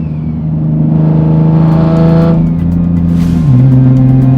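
A Nissan 370Z stuck in limp mode accelerates hard with a loud, close engine drone. The pitch climbs, then holds and drops slightly as it runs on, with no talking.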